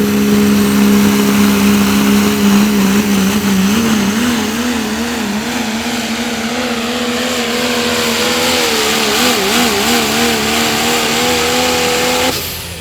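A Pro Stock diesel pulling truck called Crosswire screams at full throttle during a tractor pull, a loud, sustained engine wail with wavering pitch as it strains down the track, cutting off at the end.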